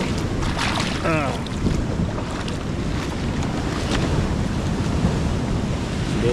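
Strong wind and surging storm waves roar steadily over a flooded seaside boulevard in Dipolog during Typhoon Kristine. The noise is loud and constant, with heavy wind buffeting close to the microphone.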